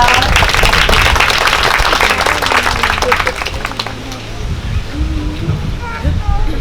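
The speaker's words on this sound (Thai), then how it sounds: "ขอเสียงปรบมือให้กำลังใจคีณป๊อปด้วยนะคะ" Wedding guests applaud in a dense, steady wash of clapping that fades somewhat midway, with voices and chatter mixed throughout the room.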